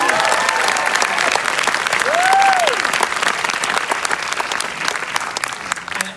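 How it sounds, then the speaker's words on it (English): Steady applause from a large crowd at a Mission Impossible 6 premiere fills the whole stretch, dense and even, with a brief whistle-like tone rising and falling in the middle. "He really deserves a big round of applause."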